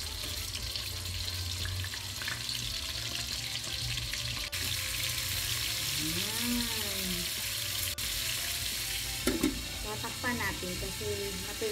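Pork ribs fry in hot oil with a loud, continuous sizzle and spatter, while a voice is heard briefly partway through and a few clinks sound near the end.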